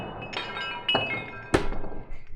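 A glass beer bottle struck by a high-power handheld laser gives sharp clinks and thunks, ending in a bright crack as the glass bursts, fairly quiet and close in a workshop.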